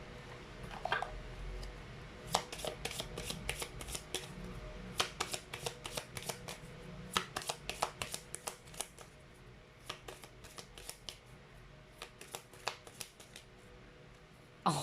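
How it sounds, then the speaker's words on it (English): A deck of cards is shuffled live during a tarot-style card reading, with quiet, close riffling and flicking bursts that come in irregular clusters and repeat across the stretch, over a hushed room. "The beauty of live shuffling, really."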